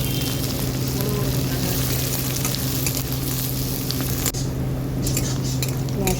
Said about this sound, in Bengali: পেঁয়াজটা একটু ভাজা ভাজা হয়ে গেছে।